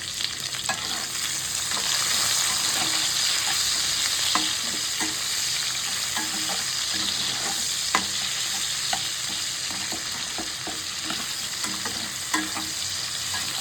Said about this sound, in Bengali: পেঁয়াজটা একটু সুন্দর করে ভাজা ভাজা করে নেব